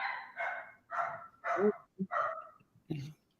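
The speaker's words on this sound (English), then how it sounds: "My dogs are barking too." Dogs bark indoors in a run of loud, separate yaps and woofs, about six bursts in three seconds with brief gaps between them, close by and with no talk over them.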